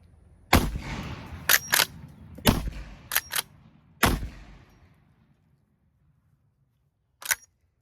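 Outdoor shots from a Winchester 1887 lever-action 12 gauge shotgun loaded with black powder, fired at cans and bottles: several sharp, loud blasts in uneven succession with short ringing decays, then a pause and one more distant-sounding shot.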